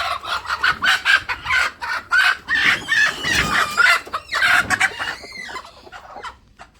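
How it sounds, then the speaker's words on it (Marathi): Chickens cluck in a repeated, choppy series of loud, close calls while a rooster crows nearby, the bursts trailing into quieter clucks toward the end on a farm where hens sit all around. "बऱ्यापैकी सगळीकडे कोंबड्या बसतात."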